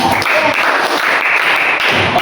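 A classroom group claps together in a short burst, fairly close and loud, the applause continuous for a couple of seconds with a slight wavering in intensity.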